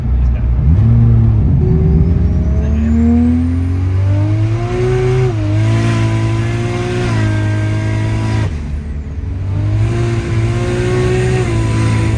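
A turbocharged Holden VL accelerates hard with rising engine pitch through the revs, then stutters against boost cut before climbing again, loud and close throughout.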